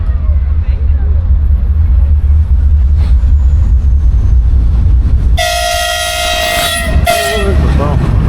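A loud train rumbles past close by at a station in the Carpathians, Ukraine, then a blaring horn sounds for a couple of seconds over the steady roar; voices are faintly audible underneath.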